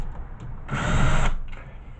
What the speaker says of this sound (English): I got a couple screws down here, one here and one over here. We're going to take these out.